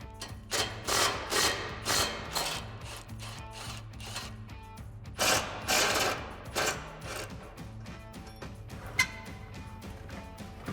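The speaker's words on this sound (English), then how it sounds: "So we're using our 13mm socket, we'll get those taken out." A 13mm socket on a ratchet removes exhaust hanger bolts on a Dodge Charger HEMI. Close, rapid ratcheting clicks come in several short bursts with pauses between them, and a sharp metallic tap sounds near the end.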